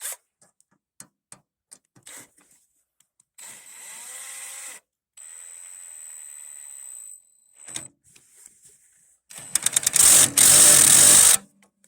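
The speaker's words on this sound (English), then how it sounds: "I just gonna use my drill. We'll torque it down." A power drill driving a screw into a Mastercraft garden tractor whines in several short bursts separated by silence and small clicks and knocks, with the last run loudest and harshest.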